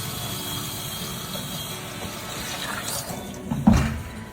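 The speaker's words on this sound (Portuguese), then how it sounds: "Depois de estar cheinho assim, você completa o litro com água." Water running into a one-litre bottle to top it up, a steady close rushing and gurgling fill that swells near the end, with no talking.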